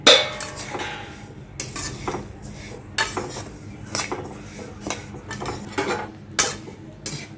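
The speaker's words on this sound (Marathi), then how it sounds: "जिरे पण आपण विदाऊट तेलाचे परतून घ्यायचे आहेत भाजून घ्यायचे आहेत" Cumin seeds dry-roasted without oil in a pan in a village kitchen, with repeated close metallic scrapes and clinks of a spatula against the pan and a light rattle between strokes.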